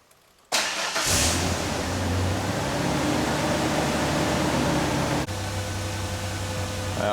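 A Ford Ranger 4x4 cranks briefly and fires up, then settles into a steady mid-pitched idle, close and continuous, with a small shift in the engine note near the end.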